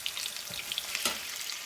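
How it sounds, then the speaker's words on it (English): Potatoes and bacon frying in a pan, a steady close sizzle and crackle with small pops, one brief stirring clatter partway through. "So these are getting ready to start browning, and it smells so good with that bacon in there."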